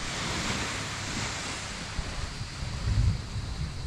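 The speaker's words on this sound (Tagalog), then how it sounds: "Ganda ng dagat oh. Kalmado, pwede." Calm sea waves wash steadily onto a sandy beach of fine brown sand, a soft continuous surf with gentle swells and light wind noise, no voices.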